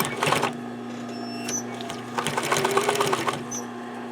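A sewing machine back stitches scrap fabric for a glasses or pencil case, a steady mechanical whir with a rapid needle chatter that surges, eases and surges again up close.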